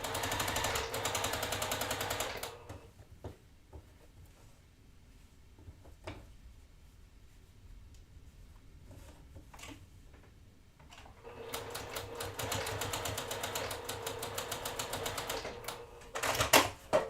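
A sewing machine stitches chain-pieced quilt columns in rapid mechanical bursts, a short run at the start and a longer steady run later, with quieter handling noises between.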